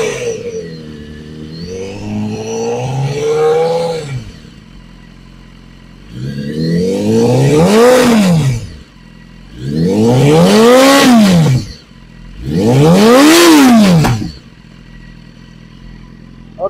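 Loud, close revving from a BMW HP4 motorcycle with an Akrapovic exhaust: after an initial rising pull, three sharp throttle blips each climb and fall back, separated by brief idle gaps.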